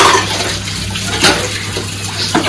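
Water runs steadily from a tap, a continuous close splashing hiss with slight surges, heard alone with no talk.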